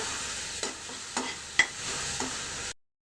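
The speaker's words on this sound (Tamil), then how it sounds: "போட்டு நல்லா வதக்கிட்டே இருங்க" Green chili sizzles in a hot pan while being stirred, a steady bright frying hiss broken by a few soft scrapes and clicks of the spoon, close and fairly loud, ending abruptly.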